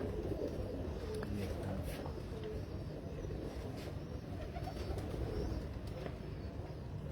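Pigeons coo on a Karachi rooftop loft, a soft steady murmur of low cooing running continuously with faint rustle and occasional brief higher calls.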